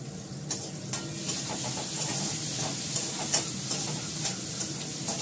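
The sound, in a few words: cumin seeds tempering in oil, being stirred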